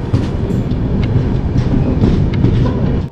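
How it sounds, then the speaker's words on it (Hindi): A passenger express train rolls slowly through Ghoda Dongri railway station in India, a loud, steady rumble with faint clickety-clack of wheels over rail joints, close by and continuous. "जो भाई हमारे गंगा कावेरी एक्सप्रेस को ओवरटेक कर रही है घोड़ा डोंगरी रेलवे स्टेशन पर।"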